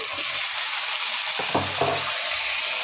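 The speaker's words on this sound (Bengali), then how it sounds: "টমেটোগুলো তেলের মধ্যে পেঁয়াজের সাথে ভেজে নিচ্ছি" Tomatoes frying with onions in oil, a steady bright sizzle throughout with a couple of brief low stirring knocks near the middle.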